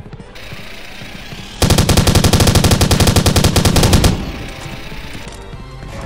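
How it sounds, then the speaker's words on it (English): Machine gun firing in the 2009 PC game Steam Slug, a loud rapid burst of evenly spaced shots lasting about two and a half seconds, framed by quieter game background noise before and after. "Machine gun."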